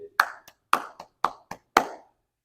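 Five separate hand claps ring out one at a time, each a sharp close slap with a short room tail, spaced roughly half a second apart, some followed by a small softer tap, with silence between.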